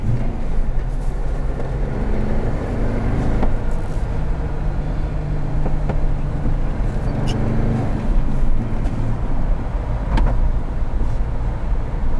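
A 2016 Jeep Wrangler Unlimited Sahara with a manual gearbox accelerates hard through the gears, giving a loud, steady engine drone with road and cabin rumble that holds throughout, heard from inside the cabin without talk.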